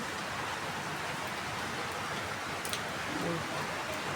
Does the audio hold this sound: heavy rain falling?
yes